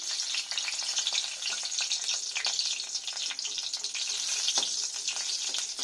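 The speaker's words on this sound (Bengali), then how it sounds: "এখানে দুটো শুকনো লঙ্কা দিয়ে দিলাম।" Two dried red chillies fry in oil left over from frying onions, producing a close, bright, crackling sizzle with fluctuating bursts, steady throughout and free of talk.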